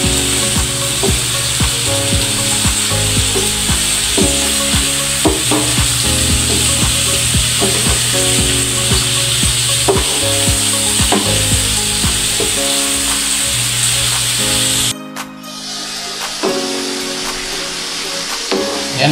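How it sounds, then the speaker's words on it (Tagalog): Bitter gourd (ampalaya) and tomatoes sizzle steadily in a pan while being stirred, with a continuous loud frying hiss and scraping, briefly dipping near the end. "halo-haloin po natin"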